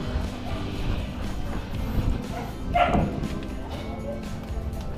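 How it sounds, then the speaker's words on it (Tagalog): A dog barks a couple of times at a distance, over a background of murmuring voices and outdoor noise. "May aso."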